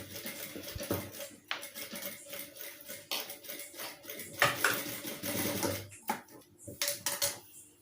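A sewing machine stitching both sides of a blouse back neck design, its motor running in steady bursts with short pauses and clicks of handling between them, close and moderately loud with no speech.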